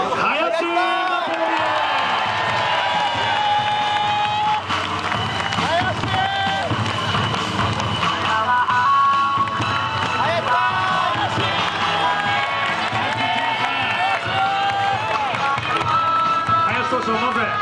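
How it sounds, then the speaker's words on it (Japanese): A big Yokohama DeNA BayStars baseball stadium crowd cheers and shouts continuously during a post-game hero interview, a dense, steady roar with whoops and clapping, and voices carry over it. "まずこの大歓声いかがですか"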